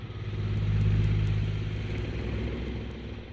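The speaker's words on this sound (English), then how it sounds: "Hey, I got traffic sounds." Road traffic sounds played as relaxation audio on Google Assistant give a steady engine drone and rumble of passing vehicles that swells and fades a little. There is no talk, and faint regular ticks sit on top.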